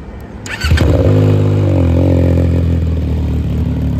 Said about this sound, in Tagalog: Ngayon subukan na natin ang tunog nitong exhaust na to